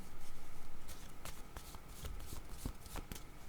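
A deck of playing cards is shuffled close up, a quick riffle followed by a run of separate crisp snaps and taps, fairly quiet with no talk.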